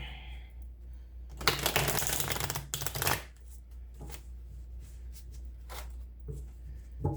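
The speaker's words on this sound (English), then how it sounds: "And one more good shuffle." Cards shuffled in two quick riffling bursts, loud and close, followed by a few soft taps and quiet handling noises.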